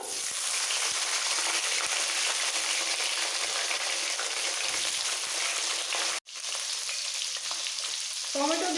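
Potatoes and tomatoes fry in oil for a light fish curry, a dense, steady close-up sizzle that runs unbroken, with one sharp knock near the end and no talk.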